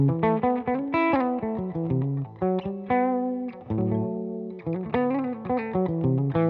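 A Gibson ES-339 electric guitar plays through a Spruce Effects Glaciers pedal into a Benson Monarch amp, giving a warm, driven tone with chorus-like shimmer. Strummed chords and single notes ring out steadily and loud, with no talk.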